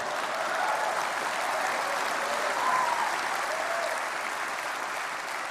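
An audience at the Mark Twain Prize ceremony claps in a sustained wave of applause, a dense, even patter of many hands at moderate distance that holds steady and eases slightly toward the end.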